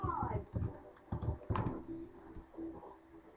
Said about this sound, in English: I'm failing at typing.